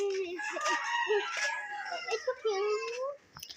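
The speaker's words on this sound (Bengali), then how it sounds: "রায়ান ঠোকর দিবে মুরগিকে ধরতে যাচ্ছে কেন" A chicken crows and clucks loudly up close, a long harmonic call running about three seconds before trailing off.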